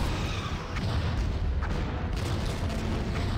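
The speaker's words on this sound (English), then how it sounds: "The ship has been destroyed." A starship blows up in a Star Trek ship-battle video game, a loud, sustained rumbling explosion with dense low booms and crackle that fills the whole stretch without letting up.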